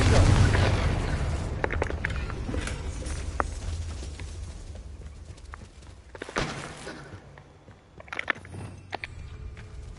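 A Confringo fire spell bursts in Hogwarts Legacy, a booming blast followed by scattered pops and crackles, with a few sharp impacts later and a voice talking faintly underneath.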